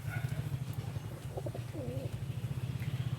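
A hen racing pigeon gives soft, low cooing calls, faint and close against a steady low background hum, with no speech.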